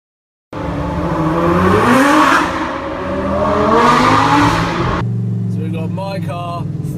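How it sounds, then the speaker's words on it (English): A Lamborghini Gallardo fitted with a full Armytrix exhaust system revs loudly in two rising, swelling pulls, then settles as the exhaust note drops to a rumbling idle. "My car, full Armytrix exhaust system."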